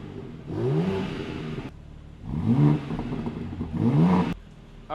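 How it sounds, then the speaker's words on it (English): A BMW G80 car engine with stock exhaust revs up three times, each rise climbing in pitch then dropping back to a low idle between bursts; close and fairly loud. "So we're gonna do some revs, stock exhaust."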